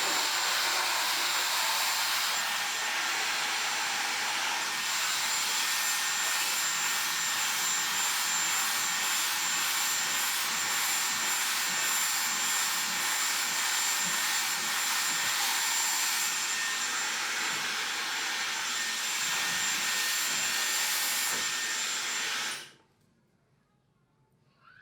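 A hair dryer blowing steadily during a blow-dry, a loud close continuous rushing whoosh for about twenty-two seconds before cutting off abruptly into near silence.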